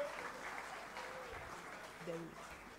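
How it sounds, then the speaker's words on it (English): Church congregation applauding, a steady wash of clapping held at moderate level for the whole stretch, with voices audible over it. "So please, a thunderous applause."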